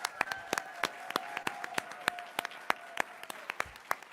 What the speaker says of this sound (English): Give them another round of applause for that.